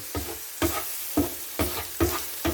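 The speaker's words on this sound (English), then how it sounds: "We'll give this a good little stir up" Pork frying in a pan for quesadillas is stirred, giving a steady sizzle with five soft scraping strokes at a regular rhythm, close and moderately quiet.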